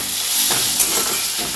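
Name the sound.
bitter gourd chorchori cooking and stirring in a pan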